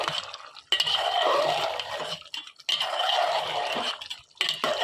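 Duck meat curry being stirred in a pan, with a spoon scraping and clinking against the metal in two close, steady bursts separated by a brief pause, no talking.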